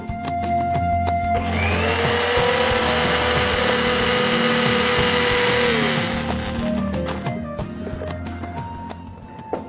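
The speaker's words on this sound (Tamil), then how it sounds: "ஸோ இன்னொரு தடவை இதை அரைச்சி எடுத்துட்டோம்." A kitchen mixer grinder whirs loud and steady for several seconds, grinding Diwali lehiyam ingredients, then the motor winds down.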